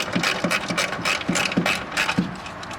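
A ratchet clicks steadily in short repeated strokes while a ground strap bolt is undone on the fuel tank of a Mazda FD RX-7, heard close up with no talk.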